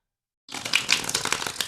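Riffle shuffle of a tarot deck on a rough fabric surface: a close, dense crackling flutter of cards interleaving, starting abruptly after a short silence and running steadily for about a second.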